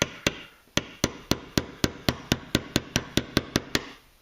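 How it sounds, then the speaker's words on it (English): A hammer taps a 1/16 inch punch to drive the pin out of an AR Badger Ordnance tactical charging handle latch, about a dozen sharp, close metallic strikes in a steady rhythm with no voices. "Punch that pin through"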